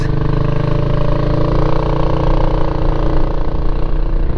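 A Kymco Xciting scooter engine runs steadily as the scooter moves off, giving a continuous, fairly loud buzzing drone that holds an even pitch throughout with no talking over it.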